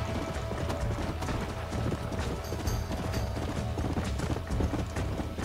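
Horse hooves gallop in a steady, rapid clip-clop in the Red Dead Redemption video game, loud and continuous throughout over a dense wash of in-game ambience.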